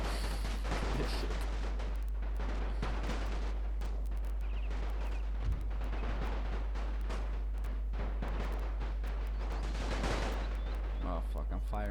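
Dense, continuous gunfire and artillery in the Great War mod for Napoleon Total War, with constant rattling volleys and booming shots filling the whole stretch loudly, with no clear speech.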